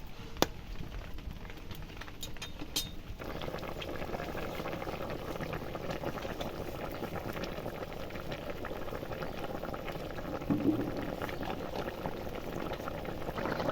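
A fish curry with elephant foot yam boiling in a pot makes a constant, dense bubbling rumble, close and even, after a few short clinks at the start.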